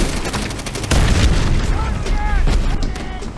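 A mortar round in the war shooter Call of Duty: World at War bursts with a loud, close boom, followed by a rumbling battlefield din with sharp pops and a faint sweeping whistle, all heard under ongoing voices.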